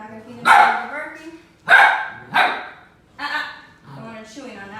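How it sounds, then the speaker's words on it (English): A puppy barks in sharp, close yips, five bursts spaced about a second apart, the last one trailing into a whine. "I'm not going to feed into the barking."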